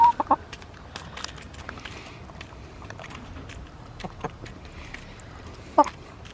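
Backyard chickens cluck and squawk in scattered bursts, with a couple of sharper calls at the start and near the end over quiet outdoor ambience.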